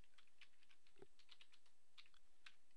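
Quiet typing on a computer keyboard while filling in a login form: a quick, irregular run of light key clicks with one firmer keystroke, close but faint over a soft steady hiss, no talking.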